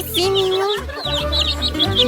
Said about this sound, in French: Regardez, c'est des vrais poulets!